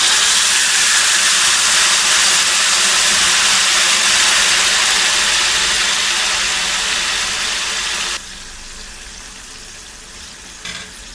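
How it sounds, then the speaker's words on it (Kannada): Tamarind juice poured into a hot pan of fried ingredients while making puliyogare, giving a loud, steady sizzle that fades slightly, then drops sharply quieter near the end. "ಈಗ ಹುಣಸೆ ರಸನ ಹಾಕ್ಕೋತಾ ಇದ್ದೀನಿ"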